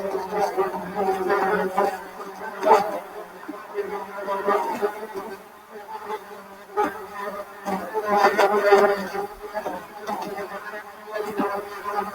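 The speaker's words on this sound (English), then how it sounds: "So that is what bees really sound like." A steady buzzing of many bees swells and fades in waves, droning continuously with no one speaking.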